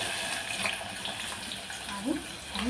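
Chopped onion hitting a ladle of hot oil for a spicy Maharashtrian matki amti, giving a steady broadband sizzle with short louder bursts near the end, with no talk over it.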